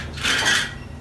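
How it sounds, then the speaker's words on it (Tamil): A single clattering metallic clunk as a heavy dosa griddle is set down on a stovetop, brief and close, with quiet room noise around it. "டினா பாத்து முட்டை பொரிக்க போறோம் சோ அதுக்கு ஒரு தோசை கல் எடுத்து இப்படி வச்சிரலாம்"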